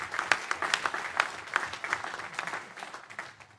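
Audience at a council meeting breaking into another round of applause, scattered individual claps over a crowd patter that builds and then tapers off toward the end.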